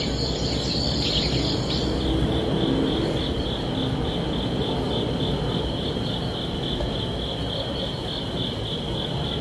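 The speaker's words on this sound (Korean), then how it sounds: "가을이 왔다는 생각에 귀뚜라미 소리까지" A steady, high-pitched trill of crickets chirping continuously over a soft broadband hiss, with no voices.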